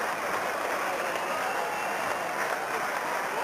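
Steady, dense crowd applause at a 1999 Round 23 Australian rules football match between Glenelg and West, the clapping roaring evenly throughout as supporters salute two long-serving club players.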